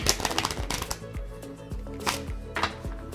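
A deck of playing cards is shuffled by hand in a series of quick riffling bursts, crisp flutters and soft taps repeating at close range in a quiet room.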